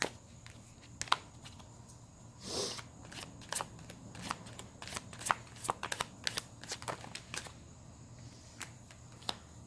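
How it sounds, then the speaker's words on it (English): Crisp riffling and snapping of tarot cards being shuffled by hand, irregular quick bursts with one longer riffle, close and fairly quiet. "I can't shuffle."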